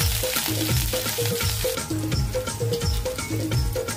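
Garlic fries in a pan for a pakat fish curry with a loud, close crackling sizzle, punctuated by repeated scrapes and knocks of stirring throughout.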